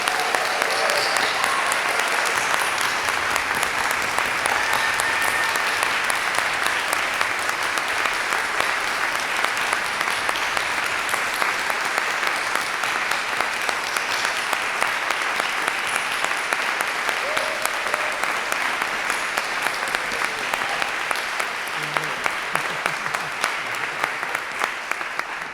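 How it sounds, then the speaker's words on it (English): A large crowd at a music conservatory commencement applauds its graduating students, with sustained, dense clapping that holds steady throughout, and a faint voice occasionally underneath. "Please join me, everyone, in a hearty round of applause for our newest graduates"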